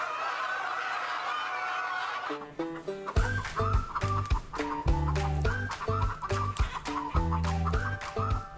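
Native Korean hens in a large free-range pen cluck and chatter in short, close bursts, mixed with a melodic instrumental backing.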